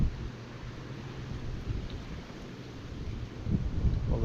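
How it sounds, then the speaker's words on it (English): Strong wind buffets the microphone outdoors on the Blue River during a trout fishing outing, a steady broadband roar with low rumbling gusts that swell louder near the end. "Oh, wind, a lot of wind."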